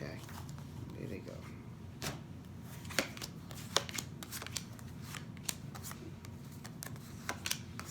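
Tarot cards riffled and drawn at a reading table, a steady papery shuffle broken by repeated soft snaps and flicks, with quiet speech in the background.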